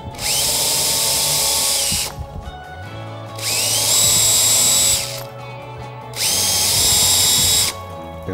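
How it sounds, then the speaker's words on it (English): A power drill whines loudly in three long bursts of about two seconds each, spinning up and biting into the edge of bamboo, with short quieter pauses between. "We're going to drill some holes on the edge of the bamboo."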